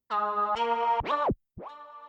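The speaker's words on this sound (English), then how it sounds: "So then I've got this little vowel layer," A buzzy, vocal-sounding soft synth lead from the Xpand!2 plugin plays a few short notes, with pitch swooping down and back up in tape-stop dips, alone and fairly loud.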